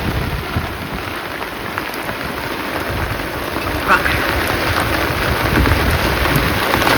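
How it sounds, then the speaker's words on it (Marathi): Heavy rain pours down steadily and loudly, a dense continuous hiss of drops drumming on surfaces close by. "पाऊस इतका जोरात आलाय ना पावसाने तर काय खरं नाही आज"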